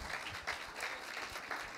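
Church congregation applauding during a worship service, a steady wash of many hands clapping at moderate distance.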